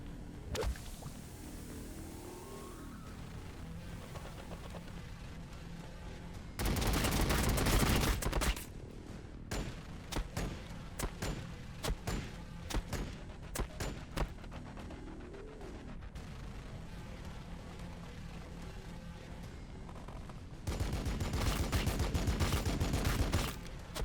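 Rapid bursts of gunfire from the Warhammer 40,000: Battlesector video game, loud sustained volleys at the start and end with scattered sharp shots and whip-like cracks between them, no talking.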